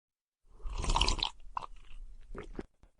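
Someone crunches through a mouthful of breakfast cereal, close and crisp, with a dense burst of bites followed by softer intermittent chews, alone without talk.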